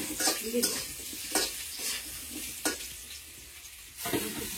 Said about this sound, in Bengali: লাল লাল করে ভাজিব।